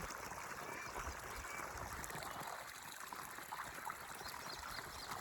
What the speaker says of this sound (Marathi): आणि ही पाणी वरनं येतं हिरीचं.